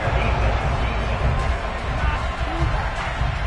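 Stadium crowd at a football game grumbles and jeers after a penalty flag, a loud, steady wall of disgruntled roar and babble throughout with no clear single voice.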